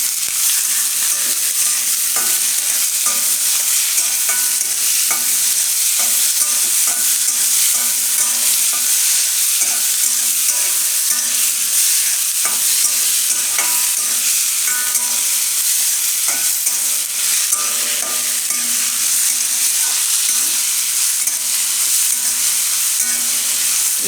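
Onions and capsicum stirred in a pan for a Gujarati mushroom curry (shaak) give a loud, constant sizzle, with spatula scrapes and taps scattered throughout and no speech.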